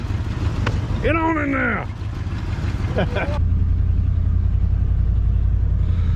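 Engine of a 1987 Ford F150 pickup rumbling steadily as it drives down the road, a continuous low drone that grows slightly heavier midway, with someone talking briefly over it near the start.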